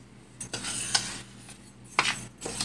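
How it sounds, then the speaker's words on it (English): A spoon stirs homemade washing soda in a pot as it cooks on the stove, giving a few scraping, clinking strokes against the pan over a steady low hum, close and moderately loud. "So I'm just going to give it a good stir."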